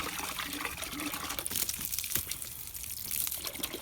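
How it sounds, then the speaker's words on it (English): Water pours and splashes steadily into a water dish, a continuous trickling gush with small splashes throughout. "Go back to filling up his water dish."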